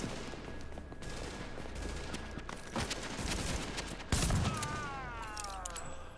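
Shotgun fire in The Division video game, a scoped shotgun: steady, dense gunfire throughout with repeated sharp blasts and a heavier thump near the end, amid busy battle noise.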